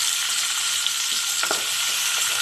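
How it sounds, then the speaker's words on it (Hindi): Chopped onions sizzle steadily in hot ghee in a pan, a dense continuous frying hiss with a few faint stirring clicks, close and alone. "ये हम इसी अपने घी में जो है ना प्याज डालना है।"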